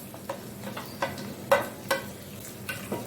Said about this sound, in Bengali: টমেটো কুচিগুলো একত্রে ভেজে নিব